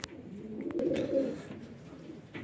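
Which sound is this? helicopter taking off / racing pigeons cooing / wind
racing pigeons cooing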